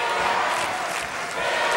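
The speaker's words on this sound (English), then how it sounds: "the crowd starts to chant for the Spirit" Crowd noise swells steadily throughout as fans chant for the Pittsburgh Spirit during an indoor soccer game against the Buffalo Stallions in 1983, a dense, continuous roar at moderate distance.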